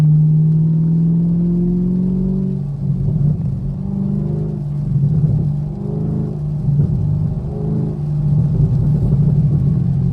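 Engine of a 500 HP Camaro SS driving on a wet road in the rain, a steady low rumble that rises and falls through the clip, near and loud with no talk.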